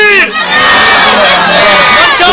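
A large crowd at a Seerat-un-Nabi gathering roars a takbir slogan in unison, a loud sustained massed shout of many voices.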